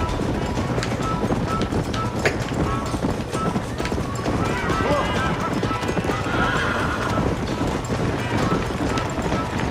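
A horse in the Red Dead Redemption video game gallops with rapid, continuous hoof clip-clops, breaking into a neigh midway, loud and close throughout while a person talks over it.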